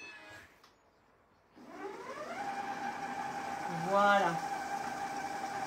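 A kitchen mixer robot whirs at speed 9, kneading one-pot pasta dough, a steady mid-pitched motor hum that starts after a short pause and rises briefly; someone speaks a word at the start.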